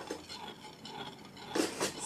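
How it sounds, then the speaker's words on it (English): Utensil stirring homemade ice cream mixture in a bowl, soft scraping and light clinks against the container, faint and uneven, with two louder scrapes near the end. "Let's just stir it."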